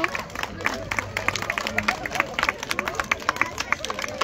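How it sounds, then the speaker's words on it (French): A crowd at a street party applauds in scattered, uneven claps with sharp individual hand strikes, mixed with crowd chatter and a voice talking over it. "si on peut leur faire un petit tonnerre d'applaudissements"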